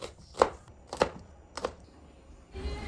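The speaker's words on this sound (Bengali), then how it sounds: "সেদ্ধতে দিয়ে আমরা কেটে নিচ্ছি রান্নার জন্য পেঁয়াজ ও মরিচ" Onions and chillies are chopped with a knife on a board, three separate close, crisp chops at an even pace, followed by a faint rustle.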